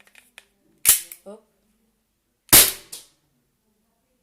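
Airsoft replica loaded and fired indoors: two sharp, loud snapping shots about a second and a half apart, each followed by a brief mechanical rattle, with faint handling clicks before the first.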